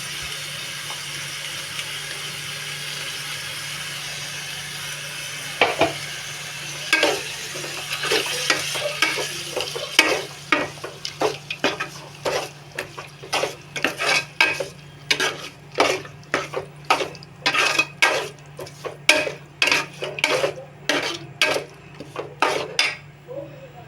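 Ground masala paste frying in a pan under a low steady sizzle, joined by a spoon scraping and knocking against the metal in a quickening, regular rhythm, close by and alone.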